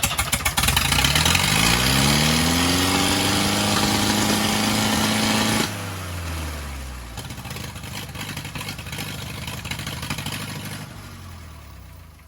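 A Fordson Major E1A tractor engine, suffering from coolant getting into the oil, runs loud and close: it revs up with a rising drone, drops back sharply midway, then keeps running steadily at a lower, rougher idle.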